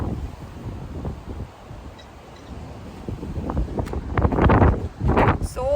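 Strong gusty wind sweeps across an empty children's playground, roaring and buffeting the microphone in uneven surges that build louder toward the end.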